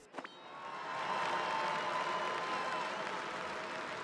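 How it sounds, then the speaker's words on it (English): Cheering crowd applause from the arena in Paper Mario: The Thousand-Year Door on Switch, swelling quickly after a couple of brief hits and then holding as a steady, dense roar of clapping. "Let's hear it for him, folks, the great Gonzalez."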